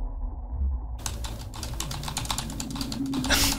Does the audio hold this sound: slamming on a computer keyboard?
yes